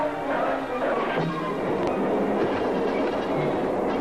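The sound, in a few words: steam locomotive chase in a silent film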